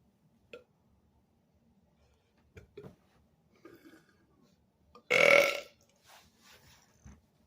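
One loud, drawn-out belch bursts out near the middle of an extreme burping session, close to the microphone, surrounded by quiet gulps, small mouth noises and soft breaths.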